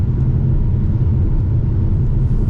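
A Ford Mustang GT S550 V8 engine drones on a road in Mexico with a deep, steady rumble. The rumble is loud and close and holds an even level throughout, with no talking.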